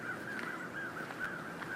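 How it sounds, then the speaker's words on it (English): Crows caw in quick repeated calls at a moderate distance while mobbing a bird of prey over a wooded valley, with a faint outdoor hiss in the background. "And she's being mobbed by crows."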